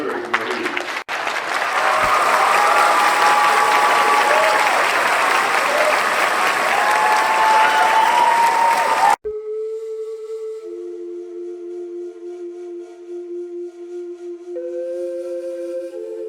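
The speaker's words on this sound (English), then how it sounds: "I'd like to offer a round of applause for Clifford Mahooty." A large audience claps steadily for about nine seconds, a dense and loud wash of applause that stops abruptly, followed by quiet background tones and sustained pitched sounds.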